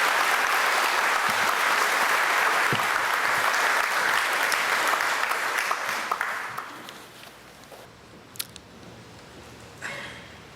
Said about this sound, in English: I think we should also extend a round of applause for Father Tom and his staff and his church